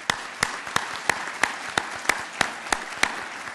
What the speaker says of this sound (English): So how about a round of applause for Lori?